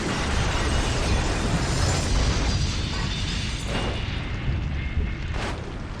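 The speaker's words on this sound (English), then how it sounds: "the Azal Avia Cargo flight crashes onto a field, dragging its nose for several meters before coming to a stop and then bursting into flames" An Azal Avia Cargo plane crashes onto a field and bursts into flames, a dense, loud, continuous roaring rumble of impact and fire that barely shifts across the span.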